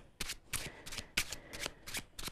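A deck of playing cards is riffled and shuffled at close range, with about seven quick crisp bursts in an uneven rhythm, fairly quiet and with no voices.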